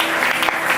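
Church congregation applauding during a Friday worship service, a brief steady burst of clapping from a crowd with no voices over it.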